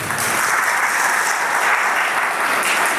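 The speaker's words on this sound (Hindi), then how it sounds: "उनके लिए भरपूर तालियां होनी चाहिए।" Congregation at a Catholic Sunday service breaks into sustained, dense applause, a steady roar of many hands clapping close by throughout with no talk over it.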